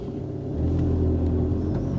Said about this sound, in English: I will try to drive off as smooth as possible